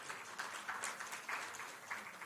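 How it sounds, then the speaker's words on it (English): Quiet, distant applause from the audience at a diabetes and endocrinology research national conference, a soft, even patter of clapping with gentle swells. "please give a good applause"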